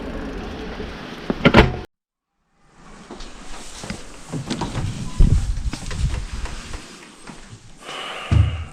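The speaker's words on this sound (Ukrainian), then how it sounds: "А ось і двері в нашу майстерню." The door to a bicycle workshop in a residential courtyard is opened with a loud rattling clunk, then a longer scraping, shuffling slide and a final knock.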